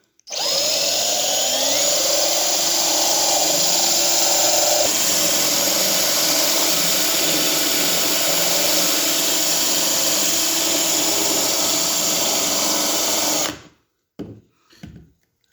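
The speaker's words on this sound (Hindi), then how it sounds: "मुझे अपना ड्रिल मशीन से महसूस होने लगा है कि ये अच्छी खासा इसके अंदर हो चुका है।" An electric drill bores a hole through glass, a loud steady whine that runs without a break for about thirteen seconds, then stops abruptly, followed by a few brief clattering knocks.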